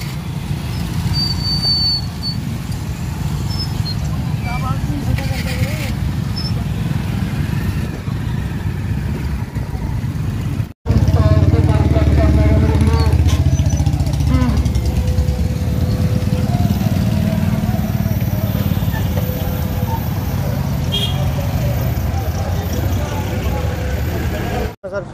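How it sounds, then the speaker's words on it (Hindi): Many motorcycles in a farmers' rally march through a town, a continuous loud rumble of engines passing close by, with voices heard among the traffic noise. "अज असी 20 पिंड मोटरसाइकिल मार्च कर लगे हाँ। 100 सवा 100 मोटरसाइकिल है"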